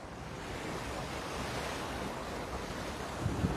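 Ocean surf washing ashore along the Hawaii coast near Diamond Head and Waikiki, a continuous broad roar of breaking waves mixed with wind noise, steady and fairly close.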